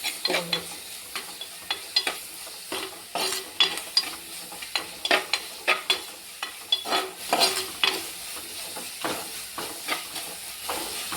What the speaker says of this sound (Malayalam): നമുക്ക് സവാള ഇട്ട് കൊടുക്കാം. അത് കഴിഞ്ഞിട്ട് നല്ലപോലെ ഒന്ന് ചട്ടിയിൽ നല്ലപോലെ ഒന്ന് ഇതൊന്ന് ഇളക്കുക